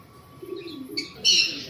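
Caged breeding pigeons give soft, low coos, followed by a brighter chirping burst near the end. The sounds are brief and faint, close by, with no talk.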